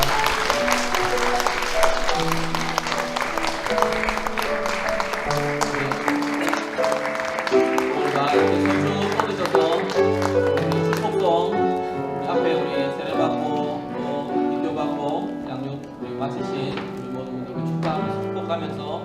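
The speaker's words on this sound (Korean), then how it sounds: "크게 박수로 우리 축하하겠습니다." Church congregation clapping in celebration of newly baptized members, sustained applause that runs alongside organ or piano music and gradually thins out toward the end.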